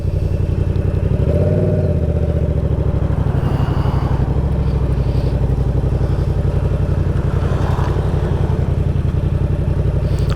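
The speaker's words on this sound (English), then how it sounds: "Alright, so I start my bike." Motorcycle engine running steadily at idle, a close, even low thudding pulse that holds throughout with a slight surge early on, no talking over it.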